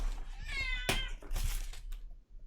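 A panicking cat with its claw stuck in something yowls and meows in distress, with rising strained cries amid scuffling and rustling close by, plus a low constant hum underneath.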